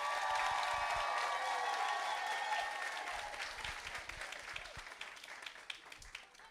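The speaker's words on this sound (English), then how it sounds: "Can we get a round of applause from parents who are in the crowd today?" Parents in the crowd at a kindergarten stepping-up ceremony applauding, a broad crowd clapping with some cheering early on, fading and thinning out over several seconds into scattered claps.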